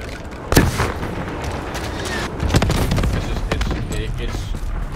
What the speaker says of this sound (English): hostile hellstorm yeah, overhead